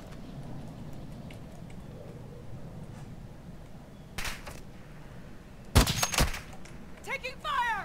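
Video game gunfire in a duos match arrives as short, sharp bursts of shots over a low, steady game background, with a louder cluster of rapid reports near the end.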